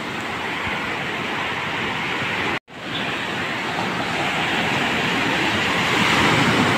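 Large high-tide waves break on a beach right in front of a seaside cottage, a loud, continuous roaring wash of surf with one abrupt brief dropout partway through, then steady churning water building slightly toward the end.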